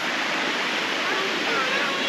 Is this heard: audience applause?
no